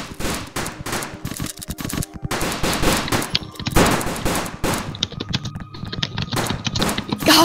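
Rapid gunfire from a Roblox game while shooting at an invisible wall, dense automatic bursts rattling continuously and loud with overlapping shots and brief gaps, no talking over it.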